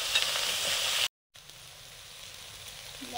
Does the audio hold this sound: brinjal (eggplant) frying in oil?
yes